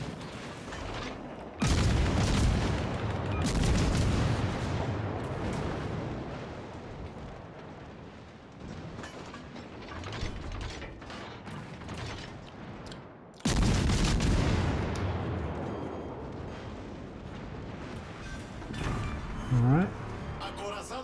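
Airburst shells explode in a video game, heavy booming blasts with sustained rumbling and crackling debris, two big bursts standing out over dense gunfire-like noise, with a voice speaking at times.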